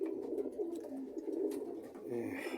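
Pigeons cooing steadily in a breeding loft where paired birds are sitting on eggs, soft low throaty coos overlapping close by with faint rustling.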